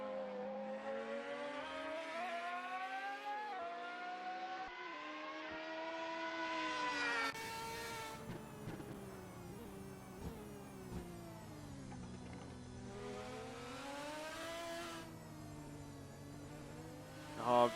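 The engine of a 2022 Nissan GT-R race car in a Super GT sim racing game at Yas Marina, a continuous high-pitched whine rising and falling through gear changes, overlapping with other cars, without pauses.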